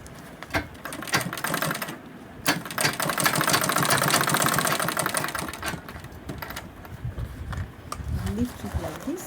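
Sewing machine stitching fabric for a handmade bag: short rattling bursts, then a longer steady mechanical run of several seconds. Further brief stitching bursts follow, close to the listener.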